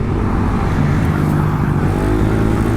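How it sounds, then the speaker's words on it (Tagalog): Steady road traffic rumbles past, several cars moving by in a continuous, fairly close engine and tyre drone with no pauses. "madami ng sasakyan"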